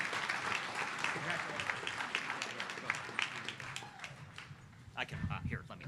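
A crowd applauds an alumnus at a university alumni awards ceremony, the steady clapping of many hands filling the room and then thinning toward the end as a voice comes in.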